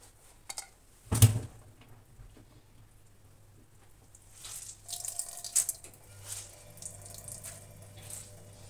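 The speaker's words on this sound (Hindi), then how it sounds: "आलू का पानी जो है वो भी रिमूव कर लेंगे अच्छे से।" Grated potato is squeezed by hand so its water drips and trickles out. A sharp splash comes near the start, then quieter patters and running drips follow, close and fairly faint with no talk.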